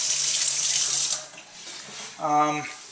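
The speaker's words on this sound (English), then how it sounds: "I usually rinse it off afterwards." Water from a kitchen tap runs steadily as a freshly sharpened knife is rinsed, a bright hiss that dips briefly and then returns, with a short voiced sound near the end.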